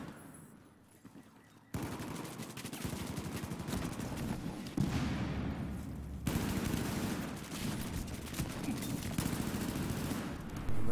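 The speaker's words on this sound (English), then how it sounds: "Intense firing going on in Bravo." Heavy infantry gunfire in a Battlefield 4 multiplayer battle: dense, continuous bursts of automatic fire and overlapping shots, loud and sustained with no gaps, after a quieter opening second or so.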